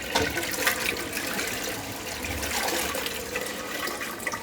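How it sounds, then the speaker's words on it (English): A toilet flushes nearby at an event venue, a steady rushing gush of water filling the whole few seconds at moderate loudness with no talking over it. "This is actually what I'm going to use to flush."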